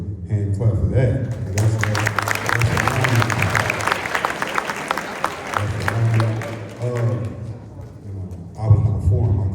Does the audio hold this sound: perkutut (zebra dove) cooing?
no